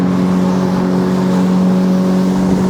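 A jet ski engine drones steadily while the watercraft is ridden, a loud, continuous motor hum with strong tonal harmonics and rushing wind and water noise, holding at an even pitch throughout.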